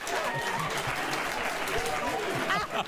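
An audience applauds in a steady, dense patter of clapping, with voices mixed into the crowd noise.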